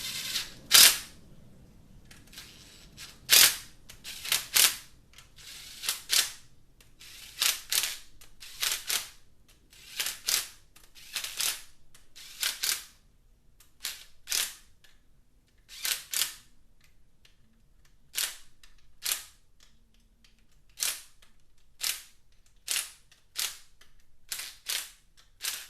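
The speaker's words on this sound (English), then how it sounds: "Now we can tighten up the 2 Z-bolts." Bolts on a CD4E automatic transmission are tightened with a tool that gives sharp, close metallic clicks, about two dozen of them in uneven bursts and single snaps separated by short quiet pauses.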